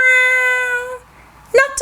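A storyteller's voice imitates a cat's drawn-out meow, a single clear, close, tonal call lasting about a second in a children's story about a little red hen, followed by a short spoken phrase.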